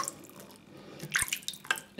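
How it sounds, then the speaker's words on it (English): Water drips and trickles into a mug of lavender lime shaving cream, a few small splashy drops near the end after a quiet start. "okay, a little bit more water,"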